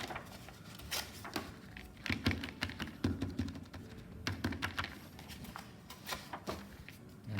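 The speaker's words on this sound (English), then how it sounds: "Just tear out little bits of little bits" Paper torn by hand into little bits, a string of close, crisp ripping and crackling bursts in irregular rhythm, moderately quiet with no talking.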